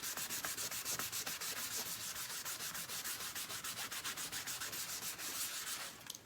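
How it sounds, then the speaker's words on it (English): Faux stain made of brown paint and water being rubbed onto a craft pumpkin for a farmhouse-style decoration: rapid, steady back-and-forth scratchy strokes, close and fairly loud, continuing evenly for several seconds with no talking. "all I've done so far is just rubbed it with a little bit of faux stain"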